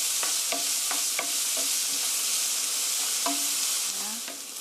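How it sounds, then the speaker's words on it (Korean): Onions stir-fried in a pan for a tomato sauce, a loud, continuous close sizzle with regular scraping stirs of a spatula every second or so, easing slightly at the end, no speech. "양파 양이 조금 많아서 5분간 볶았습니다."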